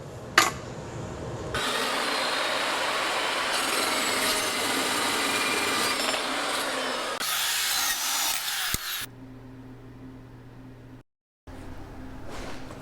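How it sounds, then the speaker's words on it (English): A FEIN Slugger dry-cut metal saw grinds steadily through a half-inch solid steel bar, a loud sustained abrasive whine for several seconds that drops away into a quieter motor run-down. "It's amazing how fast it cuts this half-inch solid bar."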